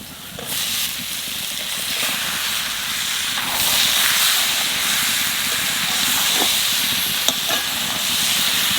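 Pointed gourd and shrimp fry in a hot pan, a loud, steady steamy hiss that swells after the first second, with occasional stirring clatter.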